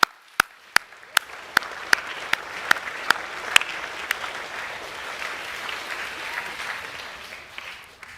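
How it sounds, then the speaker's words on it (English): A school assembly applauding Year 8 award winners at an academic awards event: a few sharp separate claps at first, then clapping swelling into steady applause from the audience. "let's give them a clap"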